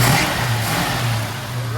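Throaty V8 rumble from a 1968 Dodge Coronet R/T's 440 engine on its original carburetor with a slightly plugged idle circuit, revving up loud and close, then holding steady over the brief stretch.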